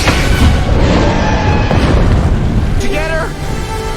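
Toothless, the dragon from the film, unleashes a powerful fire blast that strikes the Red Death, a dense roaring boom that rumbles on for several seconds before a whooshing, rising tail sweeps through as the blast fades.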